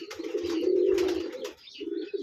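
Pigeons in a loft give a throaty, rolling coo up close, one long call followed by shorter ones, with no voices.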